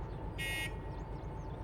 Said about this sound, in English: You've got a bell as well if you want. Or a buzzer.